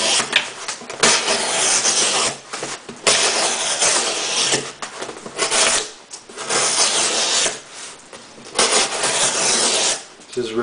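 A SOG Twitch II knife slices through cardboard in repeated rough tearing, rasping strokes, loud and close, each lasting a second or two with brief gaps between them.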